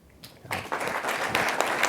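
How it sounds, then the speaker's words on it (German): Applause from a crowd builds quickly after a quiet start, a dense patter of clapping that stays steady for the remaining two seconds. "Ja, Applaus."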